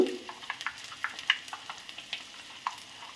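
Turmeric, chili powder and coriander powder sizzle in hot oil with a soft, steady frying hiss broken by small crackles and spatters throughout.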